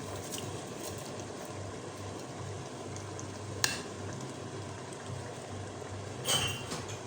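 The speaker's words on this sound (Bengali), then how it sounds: "চাল দেওয়ার পরে চালগুলোকে ভালোভাবে আমরা ভেজে নেব এবং কি মিক্স করে নেব" Rice frying and being stirred in a pot with chicken and spices, a steady close sizzle running throughout with a couple of brief sharp utensil knocks.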